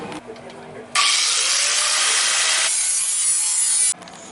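Angle grinder with a cutoff wheel cutting sheet metal: a loud, steady, harsh abrasive whine lasting about three seconds, close up, with quieter workshop noise before and after.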